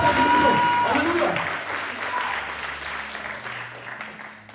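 A church congregation claps and shouts acclamation at a Sunday service, loud at first and slowly fading, with a voice and some music underneath.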